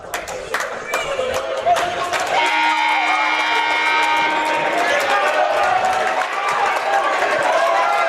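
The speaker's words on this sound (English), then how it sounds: "Both crowds for both schools are hyped. Getting loud." Crowds for both schools cheer loudly at a Bellarmine vs Valley Christian high school boys' varsity basketball game in a gym. Sneakers squeak and claps sound first, then a sustained roar swells and holds.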